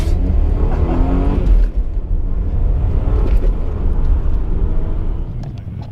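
A V6 Vauxhall Omega accelerates hard in first gear, its engine rising in a loud, close, steady roar that eases off near the end, with no talking.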